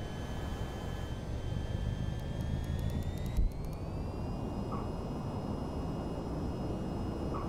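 A jet engine roars steadily at takeoff in the VR flight game VTOL VR, with a whining tone rising in pitch midway under the constant rumble, and a brief run of clicks.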